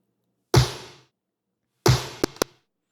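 A conventional snare drum sample in an Ableton track hits twice with a sharp crack and short noisy decay, the second hit followed by two quick softer taps, alone and dry.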